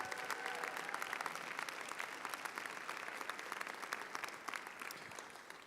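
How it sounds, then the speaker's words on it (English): Steady audience applause at a Scholarfest evening event, a continuous wash of many hands clapping at moderate distance with no voices over it. "Please give her a round of applause."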